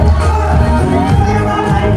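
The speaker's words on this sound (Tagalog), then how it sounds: "Palakpakan po sigawan!" Crowd at a golden wedding anniversary celebration cheering and applauding, a steady loud wash of massed voices and clapping lasting throughout.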